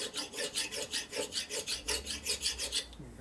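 A hand file rasping on the sharp edge of a hardened metal part, about a dozen quick rhythmic back-and-forth strokes, close and fairly quiet, with a faint low hum under the last strokes.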